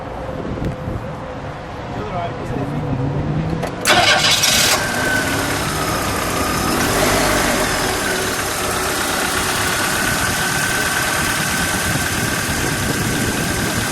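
A 1986 Chrysler LeBaron Town & Country convertible's turbo engine cranks and catches with a sharp burst, then settles into a steady, fairly quiet idle that holds for the rest of the clip, with faint background voices.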